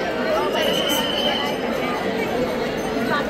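Dense crowd of pilgrims at a Marathi dindi procession, a steady murmur of many voices and babble surrounding the listener without pause.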